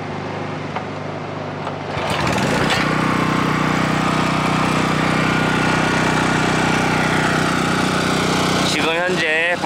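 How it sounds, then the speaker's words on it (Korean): A Honda generator and a Sportsman generator running at the same time, a loud steady engine drone that swells in just after the second unit starts, close by, with a brief voice near the end. "지금 현재 발전기 두 개를 같이 켜놓은 상태입니다."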